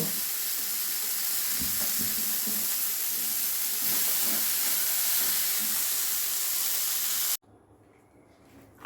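Peanuts frying in a pan give a loud continuous sizzle and hiss with occasional stirring scrapes, ending abruptly and leaving a quieter background.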